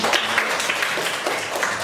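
Participants in a class session applaud together, a brisk, even wash of many clapping hands, fairly close and sustained throughout with no voices on top.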